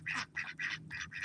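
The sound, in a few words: male ducks quacking and fussing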